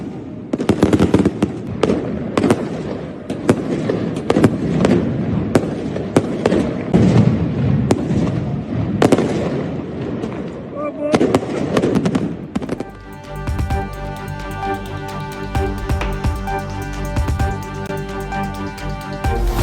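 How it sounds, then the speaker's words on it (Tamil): Fireworks burst in the sky over the Golden Temple during a festive night celebration, a dense, loud barrage of rapid crackling bangs and pops that shifts into sustained continuous crackle with music-like tonal layers near the end. "வானில் வெடித்து சிதறிய பட்டாசுகளை கண்டு ரசித்த பக்தர்கள்."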